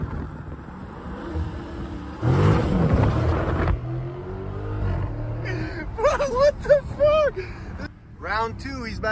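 A Dodge Challenger R/T Scat Pack with a 6.4 HEMI V8 accelerates hard from inside the car, a deep roaring surge that builds in a short burst then settles, with people talking and exclaiming over the engine afterward.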